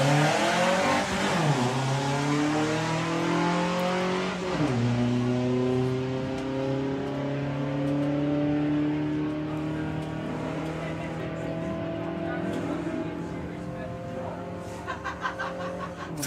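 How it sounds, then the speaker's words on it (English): Drag racing cars at Santa Pod during Sportsman Nationals qualifying, including a Skoda Kodiaq and a Volkswagen Beetle, roar loudly and steadily with rising engine pitch, a commentator's voice running beneath throughout. "Don't see many Skoda Kodiaks racing, but we have one here."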